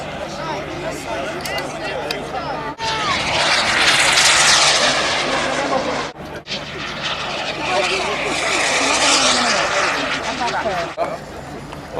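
A model jet aircraft engine at the Blackbush 2014 model aircraft show spools up into a loud, rushing roar that surges and eases in waves, with a voice talking over it.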